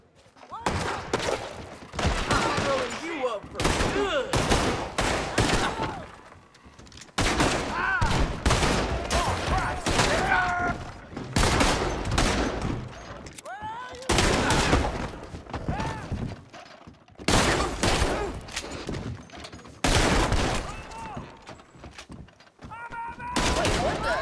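Gunfire in the video game Red Dead Redemption 2, with repeated volleys of shots and rapid bursts in dense clusters, close and loud, mixed with voices talking and shouting between the bursts.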